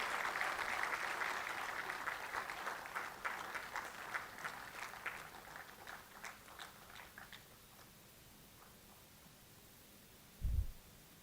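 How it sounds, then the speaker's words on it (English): An audience at an institute's annual day celebration applauds an award recipient, the clapping quiet and distant, thinning out and fading over several seconds before a single dull thump near the end. "Please, a big round of applause for the recipient."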